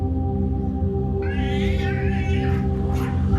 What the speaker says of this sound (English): Finally, one cat manages to deliver a powerful swipe, causing the other to retreat, yelling in defeat.